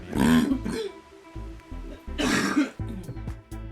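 Two rough, throaty coughing bouts from a person whose voice is fading, close and loud, each followed by quieter breathy rasps and throat clearing.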